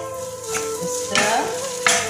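Millet bihun noodles being stir-fried in a pan, with steady sizzling and a few scraping stirs of a utensil against the metal, close and fairly loud with no talk.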